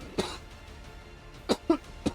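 A man coughs, once alone, then three times in quick succession about a second later; the coughs are close but fairly soft, over a quiet background during a Dawn of War strategy game commentary.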